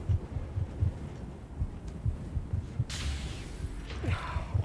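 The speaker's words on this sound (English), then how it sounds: "the way the heartbeats are in my ears" Heartbeat sound effect from the Spider-Man Remastered video game, a steady low double-thump pulsing repeatedly under a murky ambient game bed, with a brief whooshing swell near the end.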